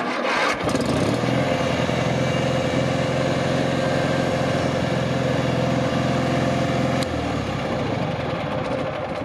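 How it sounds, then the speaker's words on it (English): An IH Cub Cadet 782 garden tractor's small engine cranks and catches with a sharp start, then settles into a steady, close, rumbling idle before cutting back near the end. "So to start the tractor, it's pretty straightforward."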